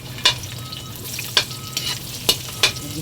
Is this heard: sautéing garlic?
yes